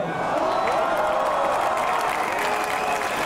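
A concert audience at an In Flames show at Liseberg in Gothenburg, Sweden, applauding and cheering in a dense, continuous roar of clapping and crowd noise that stays loud throughout.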